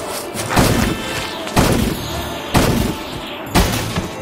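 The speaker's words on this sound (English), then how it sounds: "The building is destroyed." Viking Saga 3 building demolition: four evenly spaced heavy thuds, about one per second, each a broad crashing impact with a short rumbling tail, loud and close with no talk.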